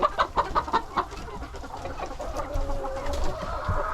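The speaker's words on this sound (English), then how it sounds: "There's another rooster." Chickens and a rooster cluck in a farm coop at close range, with a burst of quick clucks at the start giving way to softer, scattered calls and rustling.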